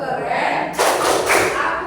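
A class of students clapping a rhythmic cheer together, dense and loud bursts of hand claps in a busy room, with voices mixed in.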